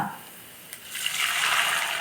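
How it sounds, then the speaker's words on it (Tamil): Water is poured into milk in a pot for Tamil-style milk payasam, a rising close splashing pour that builds over the second half after a brief quiet start. "நான் இப்போ வந்து அரை லிட்டர் பால் அரை லிட்டர் தண்ணி சேர்த்து வைக்க போகிறேன்"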